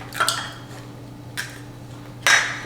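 Two eggs cracked into a container during outdoor meal prep, a few short sharp taps and clicks of shell against the rim, separated by quiet pauses over a steady low hum.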